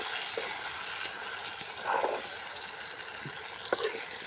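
Pepper chicken being stirred in a pan during village cooking, a soft steady sizzle with a few faint scraping stirs and brief clinks, fairly quiet and continuous.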